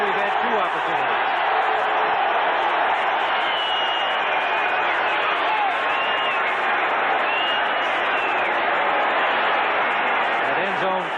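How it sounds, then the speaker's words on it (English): Football stadium crowd in the end zone during a Vikings game, a steady, dense roar of many voices filling the space, with a commentator talking over it throughout. "That end zone crowd playing their role as they see it in this game."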